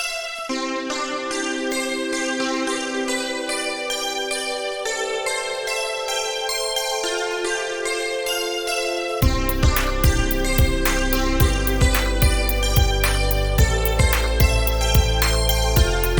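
Electronic music plays: a synth melody first, then a full beat with heavy bass and regular drum hits kicks in halfway through.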